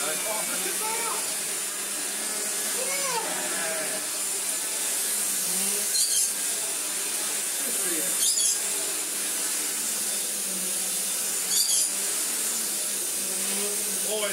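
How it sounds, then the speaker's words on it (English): A Tineco Carpet One Pro wet vacuum cleaner works a rug, its steady hissing whoosh running throughout at close range, with a few brief rattling scrapes as the head moves, while people talk over it. "Combination of a good wash and the Tineco, and now a good vacuum."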